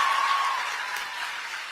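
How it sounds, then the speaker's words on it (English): Applause from a crowd at a Turning Point USA event, honouring the staff and events team, a steady even wash of clapping throughout with a faint tone at the start. "I want to give a round of applause to the amazing Turning Point USA staff and events team that put all this on"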